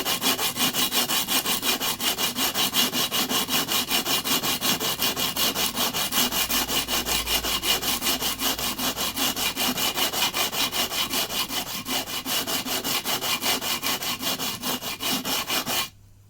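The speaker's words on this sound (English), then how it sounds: "Then I'll use some sandpaper on a level bar." Sandpaper on a level bar is worked back and forth over the metal frets of a sassafras acoustic guitar fretboard in a dense, steady rasping scrub that runs without a break, then stops abruptly.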